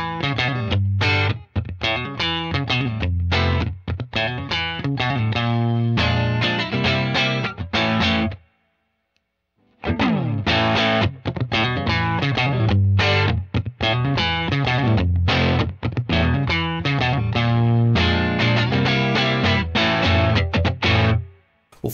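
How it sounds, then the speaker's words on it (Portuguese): A guitar runs through a Collateral FX Foxey Face fuzz pedal set to low gain with the bias turned fully clockwise, giving a lightly dirty tone. Strummed chords and notes ring out loudly and continuously, with a brief gap partway through and no talking. "Deixa o ganho bem baixinho, o bias todo em sentido horário, e a gente vai chegar primeiro na sujeirinha"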